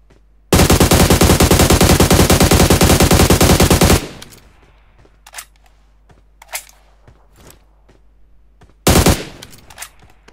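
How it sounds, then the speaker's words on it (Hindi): Gunfire in PUBG Mobile, a sniper rifle in the fight, comes as a loud, dense burst of rapid shots lasting several seconds, then scattered faint clicks and distant cracks, and a second short loud burst near the end. "भाई स्नाइपर है साले के पास"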